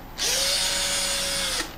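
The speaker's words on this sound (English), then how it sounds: "I took a 8-inch drill bit, put it on the drill, and a deck screw" A power drill fitted with an 8-inch bit runs a deck screw in one steady, loud whine that rises quickly, holds for over a second, then cuts off.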